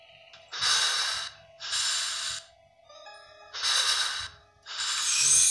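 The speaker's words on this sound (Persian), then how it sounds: "نفس نفس ترسناکی میزنه ساعت ده خیلی بد نفس نفس میزنه" Heavy, frightened breathing from the horror game Endless Nightmare: four long, loud breaths in a slow rhythm, each one a rough, noisy rush of air with short quiet gaps between them, and no talking over it.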